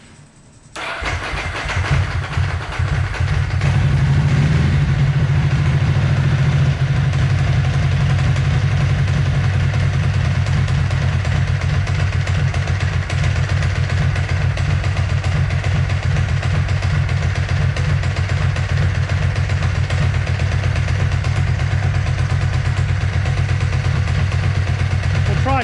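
A Ducati 749/999 motorcycle engine, struggling to hold idle during throttle body setup, cranks and fires, then runs with a loud, steady, rough idle close by for over twenty seconds.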